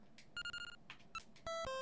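Custom chiptune phone ringtone in the Game Boy Color game Mobile Monsters Telefang, a short run of bright, beeping square-wave notes that rises into a louder, sustained melodic burst near the end, heard on its own.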